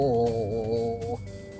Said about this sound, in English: that's the sound of mana being added to someone's name